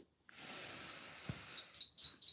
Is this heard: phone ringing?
no